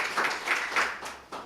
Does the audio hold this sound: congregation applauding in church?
yes